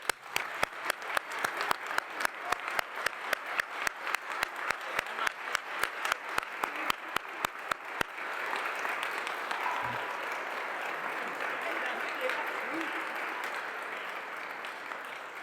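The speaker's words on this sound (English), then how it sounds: "I think we need a round of applause for you" Audience applause at a Canadian Space Agency astronaut assignment announcement: about eight seconds of dense, steady clapping from a sizable crowd, then a long wash of lingering room tone and murmur.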